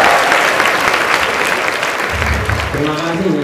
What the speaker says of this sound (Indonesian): Beri tepuk tangan untuk Bung Agung.